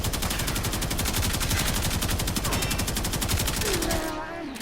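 A Karak Wraith assault rifle in Warframe fires on full auto in a loud, continuous stream of evenly spaced shots that stops abruptly near the end.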